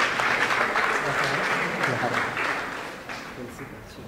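An audience at a school awards ceremony for top baccalaureate students in Bargny applauds steadily, a dense wash of clapping that fades slightly toward the end, with no voices standing out.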